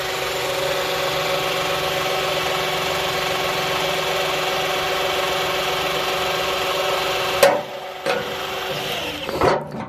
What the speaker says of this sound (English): piercing the steel with some sort of electric drive